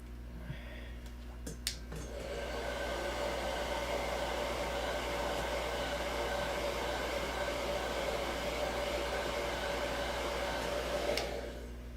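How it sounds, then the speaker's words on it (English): A heat gun blows steadily while softening old trim for removal, its continuous whooshing roar starting after a couple of clicks and running unbroken for about nine seconds before cutting off, with no talking. "I'm going to use the heat gun to take these off because they come off so much nicer with the heat"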